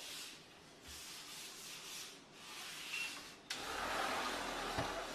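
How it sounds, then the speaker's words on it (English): Cloth towel buffing a freshly sealed granite stone surface: soft, steady rubbing swishes in repeated strokes, close and fairly quiet, with a slightly firmer pass near the end. "You buff with the white terry cloth towel"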